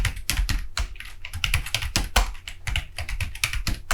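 Rapid, uneven keystrokes on a computer keyboard while entering text in an Excel spreadsheet, sharp close clicks with brief pauses between bursts and no talking.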